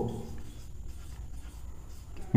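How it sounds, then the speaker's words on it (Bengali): Marker or chalk writing on a board during a spoken English lesson, a faint, steady scratching and rubbing that runs throughout and ends in a sharper knock. "তাহলে আমি এখানে লিখব"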